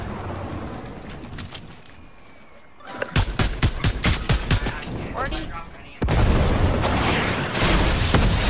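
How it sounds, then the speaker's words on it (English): Gunfire in the video game Fortnite, with sniper shots among the rapid bursts of sharp cracks and booms that start midway and run in quick succession, with people talking over and around them. "He's actually sniping right now."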